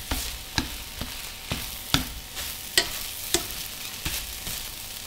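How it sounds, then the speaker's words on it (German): A utensil stirs and scrapes food frying in a pan, with steady sizzling underneath and sharp scraping clicks at irregular intervals, close by and with no voices. "Und dann verrühre ich das noch immer so ein bisschen."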